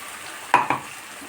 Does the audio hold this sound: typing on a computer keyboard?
no